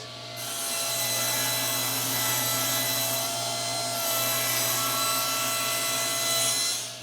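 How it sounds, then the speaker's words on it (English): A power saw rips solid wood pieces to width, a loud steady whine that holds for several seconds with the blade cutting through the stock. "I'm going to rip these pieces to 3 1/8"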